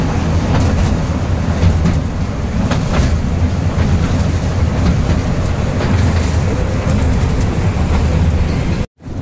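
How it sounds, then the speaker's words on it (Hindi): Steady, loud rumble of a short tourist train ride through a hand-built tunnel in Bhopal, continuous clatter and roar throughout with no talk, cutting off abruptly near the end. "भैया ट्रेन को सफर पूरा हो चुको है"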